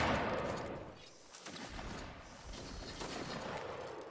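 Musket volleys in the Napoleonic Wars multiplayer line battle game Mount & Blade, a loud burst of gunfire at the start followed by scattered distant shots and rumbling.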